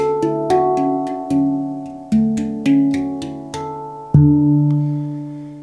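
Soft, ringing metallic tones from a handpan, gently touched one note at a time at a slow, uneven pace, each note fading out slowly.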